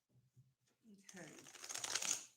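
A deck of tarot cards being riffle-shuffled up close, a brisk crisp flutter that builds over about a second and a half after a few soft taps and handling sounds.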